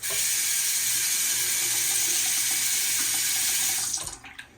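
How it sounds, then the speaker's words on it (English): A tap runs in a steady, loud hiss of water into a sink, then shuts off near the end, leaving faint drips. "That's water running now."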